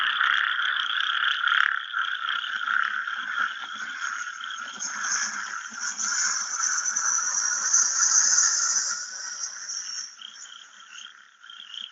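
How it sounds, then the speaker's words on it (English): Dense chorus of frogs croaking continuously, many overlapping calls forming a steady rasping din, with no talking. "So the frogs are croaking."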